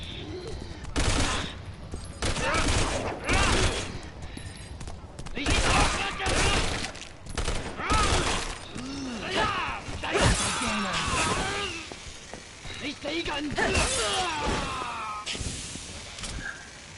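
Gunfire and splintering crates in Resident Evil 6's Ada Wong campaign, with repeated sharp shots and breaking wood at a steady pace over game ambience and someone talking intermittently.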